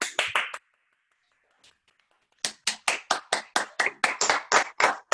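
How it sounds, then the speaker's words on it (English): Group clapping closes a circuit workout class for all abilities: a few quick claps, a short quiet gap, then a steady run of about a dozen sharp, close, evenly spaced claps. "give yourselves a clap"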